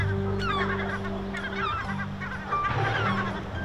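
Herring gull chicks call from a nest of three, a mix of thin high peeping and cries over a steady low drone, close by and continuous for a few seconds.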